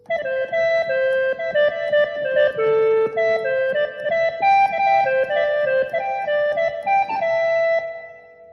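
A reedy Phu Thai pi pipe sample on a Yamaha S-650 keyboard plays a continuous melody of sustained, stepping notes, bright and close, without any voices.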